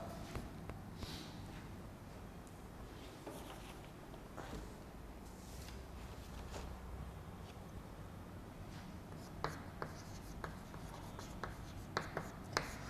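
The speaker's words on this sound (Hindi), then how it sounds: "मान लीजिए कि मैं एक खाली जग्या इधर लिखता हूँ" Chalk or pen scratching out a fill-in-the-blank sentence during a Hindi revision lesson, a steady run of soft writing strokes with small taps, fairly quiet and continuous throughout.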